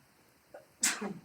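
A single sharp sneeze bursts out after a brief quiet lead-in, close and fairly loud, with no talking.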